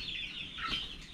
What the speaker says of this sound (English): These are no longer chicks. They're full-on chickens.